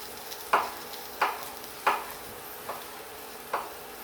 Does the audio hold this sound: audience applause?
no